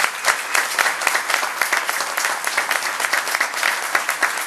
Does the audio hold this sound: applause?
yes